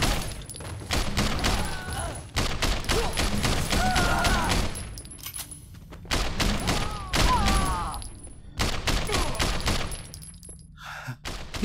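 Rapid bursts of gunfire crackle through a Sleeping Dogs gunfight, arriving in dense volleys with short pauses between them, loud and close, with brief shouts and effects mixed in.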